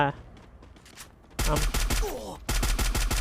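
Rapid gunfire from the mobile game Free Fire comes in two loud automatic bursts after a quieter opening, each a fast run of sharp shots.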